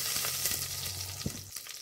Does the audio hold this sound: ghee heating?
yes